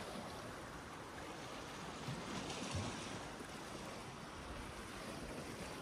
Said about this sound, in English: calm sea conditions tonight.